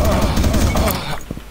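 Rifle gunfire in the video game AssaultCube: a rapid, loud burst of repeated shots lasting about a second, then breaking off into a few scattered, quieter pops.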